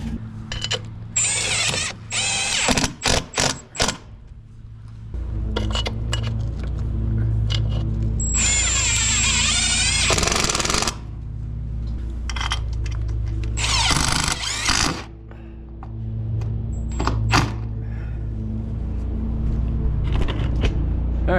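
Power drill driving screws up through plywood into welded spacers on an RV, several loud whirring bursts of varying length with pauses and handling clatter between them.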